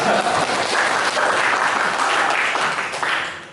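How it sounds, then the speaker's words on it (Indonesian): A class applauds students during a school history lesson, bright, dense clapping close by for a few seconds, easing slightly toward the end. "Tepuk tangan dulu untuk kalian semua."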